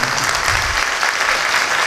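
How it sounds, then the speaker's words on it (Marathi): An audience applauds loudly for Keshav Maharaj Ukhlikar at a devotional kirtan gathering during the Kartiki Wari Sanjeevani Samadhi festival, a dense, steady wash of clapping filling the whole two seconds without a break. "यांच्याकरता जोरात एकदा टाळी वाजवा"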